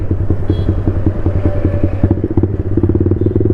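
A Yamaha MT 15 motorcycle fitted with a loud exhaust silencer rumbles close by at a steady throttle, with rapid crackling pops throughout and no talking.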